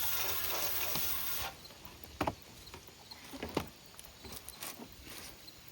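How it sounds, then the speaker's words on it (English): Water sprays and rinses over the front of a CRT TV, a hissing spray for the first second and a half, then intermittent splashes, drips and clicks, quiet and close. "We'll first spray it off, rinse it off first."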